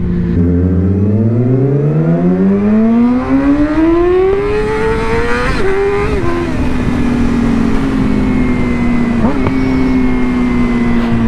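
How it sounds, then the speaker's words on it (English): A motor revs up in a rising whine that holds steady and loud; no distinct exhaust pops stand out. "I think that's his bike popping. That sounds good."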